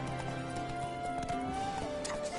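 Roach, a horse in The Witcher 3, clip-clops along in a quick steady rhythm, quiet and mixed with soft game ambience and faint background tones.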